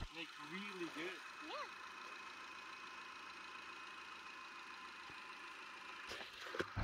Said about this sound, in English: It's my 2004 Mitsubishi Lancer. Running pristine.